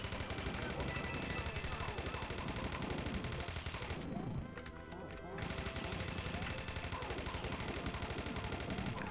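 Machine gun fire in the Golden Souls 2 video game rattles in a continuous rapid stream, fairly faint, with a short break midway before the shooting resumes.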